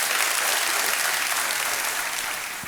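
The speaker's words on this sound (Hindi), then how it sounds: "सब लोग हंस खेल रहे हैं, ताली बजा रहे हैं, देखिए, है कि नहीं?" Studio audience applause on the Hindi game show Kaun Banega Crorepati, a dense, steady burst of many hands clapping that holds loud throughout and starts to fade at the very end.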